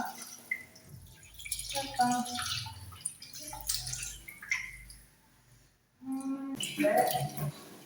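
Raw chicken pieces are rinsed in water in a kitchen, giving dripping, splashing and squishing sounds in bursts with pauses, with a person talking nearby throughout.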